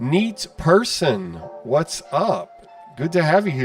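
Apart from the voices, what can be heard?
No everyday noise stands out behind the speech.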